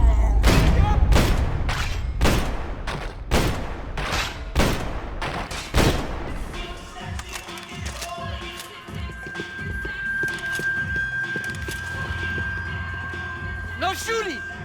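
Gunfire erupts in Max Payne 3: a rapid run of loud, sharp shots in the first six seconds, then a tense lull with a lingering tone, scattered clatter and a final distant bang, with voices talking over it.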